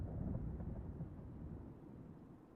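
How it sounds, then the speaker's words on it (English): Thunder rumbles in Fire Emblem: Three Houses, a deep, low, rolling grumble that sits quiet and distant and slowly fades over a couple of seconds. "I hear thunder. Rain is soon to follow."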